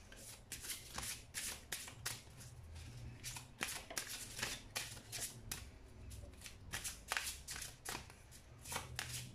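Archangel Michael oracle cards are shuffled close up in a steady run of crisp riffling bursts with a low hum underneath throughout.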